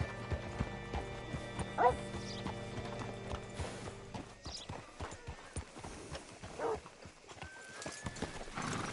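Steady clip-clopping of horse hooves on a hard surface in Red Dead Redemption 2, close by, with occasional creaks and a brief whinny-like call among low background ambience.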